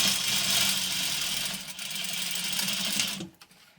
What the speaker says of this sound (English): Should I be doing this on my other machine so I could zigzag stitch this?